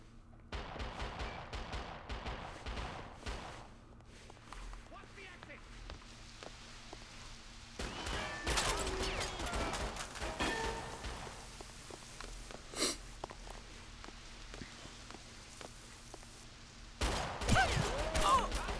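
Gunfire in the first-person shooter Perfect Dark Zero, with sharp bursts of shots in scattered clusters, some loud and close, under a player talking.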